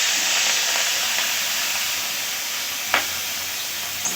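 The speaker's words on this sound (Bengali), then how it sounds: "এবার চিংড়ি মাছগুলো দিয়ে দেব।" Prawns hit hot oil in a wok on a Bengali home kitchen stove, giving a loud, steady sizzling hiss throughout, with a brief sharper crackle near the end.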